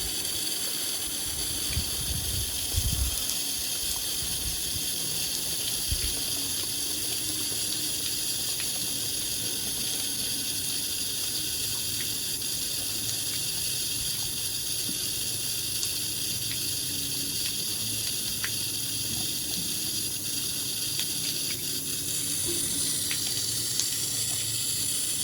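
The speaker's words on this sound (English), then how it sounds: "So we'll let that water run in there for about 30 seconds or so and get all that oil off the top." Water from a hose runs steadily into a trap to lift oil off the surface, a constant close hiss and rush that lasts the whole time, with a few low knocks near the start.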